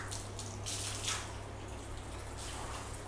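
Water running while a car panel is washed with Carpro Reset from a wash bucket, a steady soft splashing flow over a low hum, fairly close and continuous.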